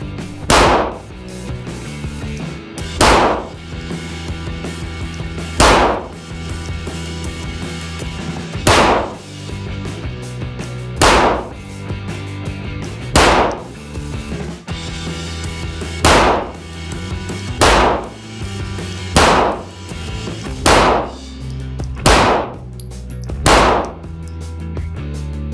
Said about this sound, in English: Just checking pure accuracy of the gun now.